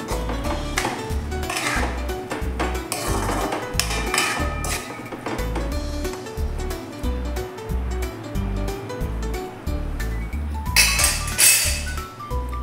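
A spoon clinks against a pan while sprouted matki (moth bean) curry is stirred, giving repeated, fairly close metallic taps and scrapes in an irregular rhythm, with no talking.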